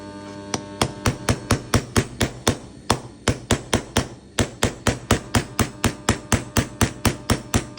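A hammer strikes a roll pin punch to drive a pin out of a steel frame pistol magwell, about two dozen sharp, evenly spaced metallic taps, close and alone.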